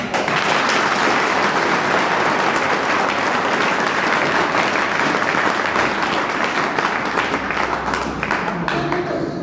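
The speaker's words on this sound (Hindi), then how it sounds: "तालियां बजा रहे हो भाई" Loud, dense applause from a large audience at a business talk, sustained steadily for several seconds with crowd noise mixed in.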